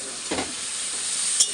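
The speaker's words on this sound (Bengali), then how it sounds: "এটা দিয়ে কিছুক্ষণ নাড়াচাড়া করব" Spices are stirred into cauliflower stalks frying in a pan, making a steady close sizzle with a couple of brief scraping stir strokes.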